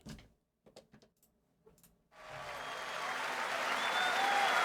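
A concert crowd at a live show in Poland breaks into loud, sustained applause and cheering after a few quiet clicks and knocks.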